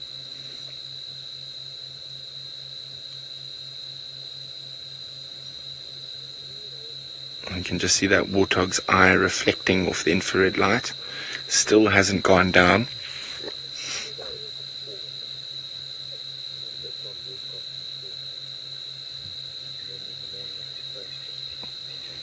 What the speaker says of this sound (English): there are some crickets in the background. They also sound like there's some katydids, which is a type of grasshopper.